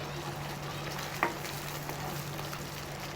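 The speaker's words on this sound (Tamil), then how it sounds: "தக்காளியும் பச்சை வாசனை போகிற வரைக்கும் நல்லா வதக்கிக்கணும்." Tomatoes sautéing in oil in a pan for paneer butter masala, a soft, even, continuous sizzle close by with one brief clink partway through and no talking.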